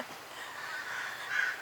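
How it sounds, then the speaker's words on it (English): Crows caw back and forth while squabbling over food beside a BC highway on a hot day, a steady overlapping chorus of harsh calls at moderate distance with no talk. "the crows are entertaining us. They're arguing over some food."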